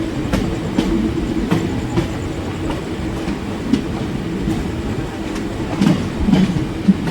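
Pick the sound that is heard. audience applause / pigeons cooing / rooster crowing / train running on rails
train running on rails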